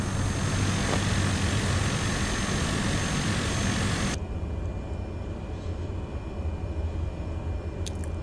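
A Cessna Caravan's turboprop engine drones continuously while taxiing in Microsoft Flight Simulator, a steady broadband roar that drops abruptly to a quieter hum partway through, with no talk.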